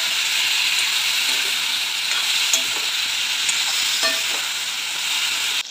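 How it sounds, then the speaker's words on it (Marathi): Chopped pumpkin is stirred in a frying pan, a steady bright sizzle with occasional scraping clicks of the spoon, close and continuous without any talk. "बारीक चिरलेला डांगर टाकून देऊ। आणि चांगल्या प्रकारे मिक्स करून घेऊया।"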